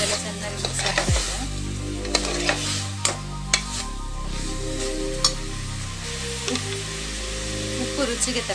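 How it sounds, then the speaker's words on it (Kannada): Chicken gravy frying in a pan while being stirred, a close crackling sizzle broken by repeated spoon scrapes and knocks against the pan, loud and steady with no talk. "ಇದೆಲ್ಲ ಚೆನ್ನಾಗಿ ಮಿಕ್ಸ್ ಆಗ್ತಾ ಇದೆ."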